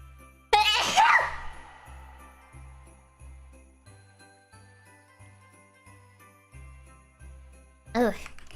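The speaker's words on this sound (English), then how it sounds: "I think I have to sneeze." A single loud, close sneeze bursts out over a quiet, tinkling musical background, followed a few seconds later by a shorter second burst that may be another sneeze or a vocal sound.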